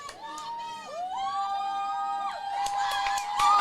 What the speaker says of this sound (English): Oh, we have a loud cheering from the fans here.